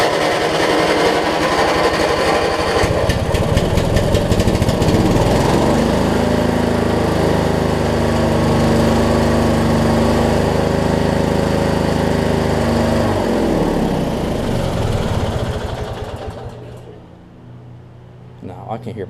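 A Craftsman LT1000 riding mower with an opposed-twin engine runs loudly and steadily for about fifteen seconds, a rough continuous mechanical drone with a shifting pitch, then drops off near the end.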